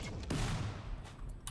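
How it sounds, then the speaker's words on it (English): Gunfire from a Rimworld battle bursts out as a dense, loud fusillade of overlapping shots, sustained over a second and a half with a few sharper reports near the end. "I wonder if we can wind up our shots faster here."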